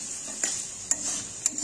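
A faint, steady sizzle from chicken gizzard and liver curry cooking in oil after water is added, broken by three soft clinks of a utensil against the pan at even intervals.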